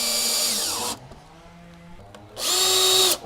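A power drill set to low torque drives small screws into a cedar Flow hive, two loud whirring bursts separated by a quiet pause.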